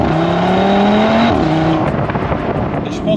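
2022 Audi RS3 engine revving hard in performance mode, a loud rising wail of climbing revs with a gear shift midway, then a rumbling, crackling drop, close up.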